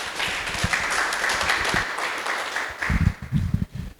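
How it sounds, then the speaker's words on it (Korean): An audience at an academic symposium applauds to welcome the next presenter, steady clapping at a distance that grows into closer, sharper claps near the end. "김종기 선생님의 발표를 큰 박수와 함께 맞아주시기 바랍니다."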